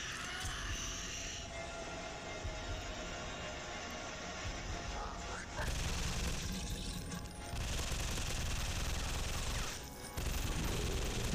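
Rapid, dense gunfire from a mobile zombie horror shooter rattles in sustained automatic bursts that grow heavier midway, with brief pauses between volleys.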